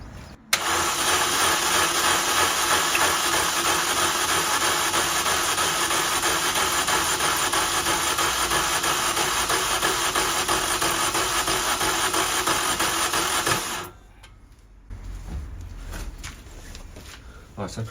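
A VW Golf engine cranks on the starter during a compression test, a loud, steady, rapid churning drone held for about thirteen seconds before cutting off, then quieter handling noises.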